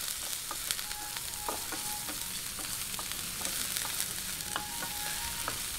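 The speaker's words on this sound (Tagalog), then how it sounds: "Lagay po natin ng bawang at sibuyas. Pinagsabay ko na po. Ayan, isa-gisahin lang po natin." Garlic and onion sauté together in a pan for chicken asado filling, a constant close sizzle with scattered light crackles and a few faint clinks of utensils, no voices.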